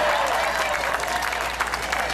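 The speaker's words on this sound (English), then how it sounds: "Give me a round of applause." Crowd applauding at a political campaign rally in Yigo, Guam, dense steady clapping throughout, fairly loud and continuous with faint voices mixed in.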